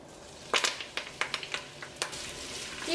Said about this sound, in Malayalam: ഈ ചൂടായ വെളിച്ചെണ്ണയിലേക്ക് സവോളയും ഇഞ്ചിയും പച്ചമുളകും കറിവേപ്പിലയും ചേർക്കുക.